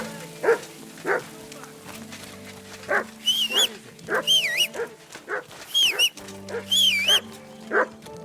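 A dog in the video game Kingdom Come: Deliverance II barks and whimpers repeatedly, with short close barks mixed with higher yelping whines over a low game ambience.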